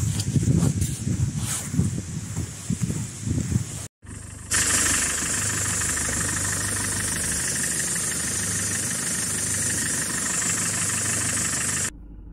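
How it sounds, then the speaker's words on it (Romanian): A car engine turns over and settles into a steady idle with a low rumble and light knocking; a brief silence interrupts before it runs continuously. "auziți motorul, a pornit"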